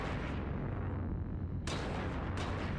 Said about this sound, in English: Those cannons still seem to be kind of shooting.